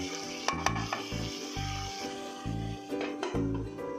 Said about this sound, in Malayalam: ഈ സവോള ഒന്ന് വഴന്നു നോക്കാം